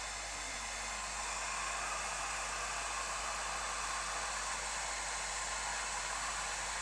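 A hair dryer blows steadily and continuously over artwork to lift masking tape off paper, a constant airy whoosh with a low motor hum, unchanging throughout.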